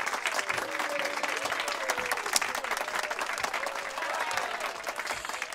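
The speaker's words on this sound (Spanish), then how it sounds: "quiero pedirle un poquito de sus aplausos para recibir a mi corista" Steady audience applause greets a backing singer at a performance, dense, even clapping from a crowd with faint voices beneath.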